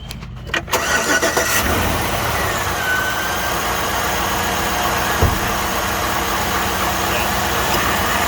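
A Chevy truck engine cranks and catches after its air conditioning drive belt tensioner assembly is replaced, then settles into a loud, steady idle with people talking nearby.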